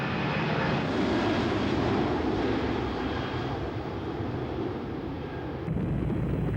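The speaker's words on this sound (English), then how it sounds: "Every time we fly in a plane, we rely upon the air flowing over the wings to lift us up." A fixed-wing airplane roars overhead, its engine a loud, steady broadband rumble that holds throughout and dips briefly near the end.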